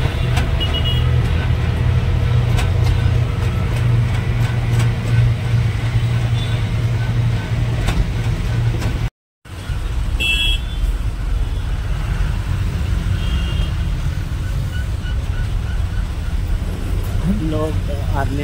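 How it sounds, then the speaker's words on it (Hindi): Jammed road traffic in Mumbai, a constant low rumble of idling and creeping engines close by, with a brief horn or two and a person talking over it. "कितना ट्रैफिक जाम है देख सकते हैं"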